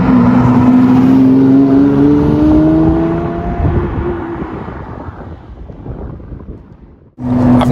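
A high-mileage Lamborghini Murcielago driven hard on tight country-road corners, its engine a loud steady howl that climbs slowly in pitch, then fades and drops away before a fresh burst of engine noise comes back at the very end.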